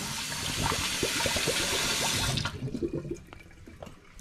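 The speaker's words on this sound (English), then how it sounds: "Now she's washing the tomatoes." Tap water runs steadily at a sink while tomatoes are rinsed under it, then shuts off partway, leaving scattered drips and light handling clatter.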